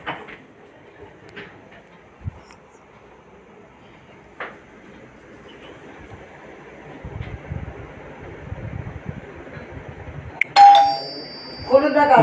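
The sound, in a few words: doorbell ringing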